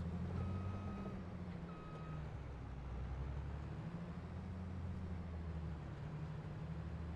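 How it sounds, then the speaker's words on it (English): Grain augers run in the Farming Simulator 22 video game as a quiet, steady low mechanical drone, with faint reversing beeps sounding briefly near the start. "you can hear the augers kicked in"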